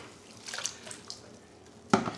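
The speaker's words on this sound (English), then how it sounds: "we're going to clean the casings underwater" A brush scrubs trumpet valve casings underwater, making soft sloshing, dripping and swishing sounds, with a sudden louder splash near the end.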